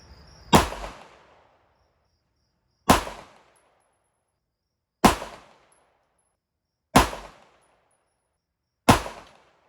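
Five sharp, loud pistol shots fired from a heavy handgun loaded with 124 grain plated bullets over 4.8 grains of CFE powder, spaced about two seconds apart, each with a quick decaying tail and silence between.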